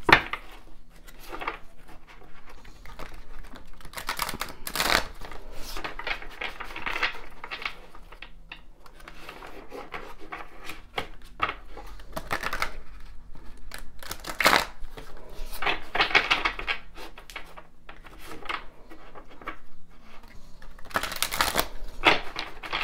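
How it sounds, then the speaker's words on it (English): Angel tarot cards being pulled and handled, with papery shuffling, flicks and soft taps against a surface in irregular bursts over a steady low background, fairly close, no talking. "I'll pull two tarot cards, okay?"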